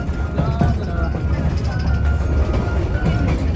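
Train rumbling and rattling along the tracks at close range on a trip to Ooty, with people talking over the continuous noise.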